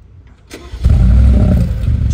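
A Mercedes G-Class engine cranks and fires up close, with a quick starter whir, then a loud rumbling catch that settles into a deep, steady idle.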